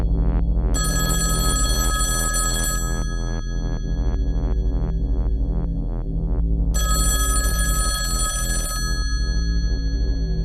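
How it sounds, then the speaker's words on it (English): A telephone rings loudly in repeated electronic bursts with a steady pulsing rhythm, close and clear, with no talking over it. "are you going to answer the phone?"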